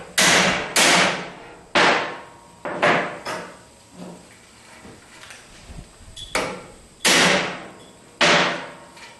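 Heavy hammer blows strike metal to drive out a car's rear strut rod, about seven sharp, loud ringing hits in an uneven rhythm, each trailing off before the next, with no talking.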